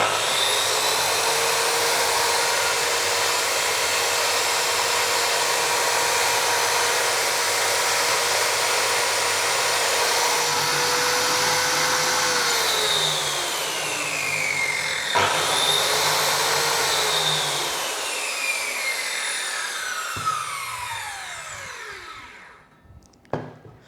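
A DCK KMY02-185 circular saw's motor whines steadily at high speed with minimal vibration, then spins down twice, its pitch gliding lower as it coasts to a stop.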